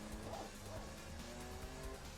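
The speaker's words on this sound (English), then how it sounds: "you hear the tires screeching" Tires squeal in Gran Turismo 6 as a 1000bhp Oldsmobile Toronado is driven, with a thin, drawn-out screech riding over a steady engine drone for about two seconds, with no talking.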